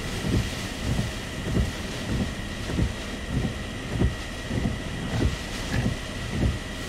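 Strong wind from Tropical Storm Gordon on a Gulf Shores beach buffets the microphone in steady, rhythmic gusts over a constant roar of surf and blowing air.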